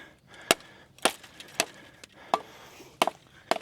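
Survival University Gallantry large blade chopping into a wooden log outdoors: six sharp, loud woody chops spaced irregularly, each a crisp crack with splintering ring, no talking.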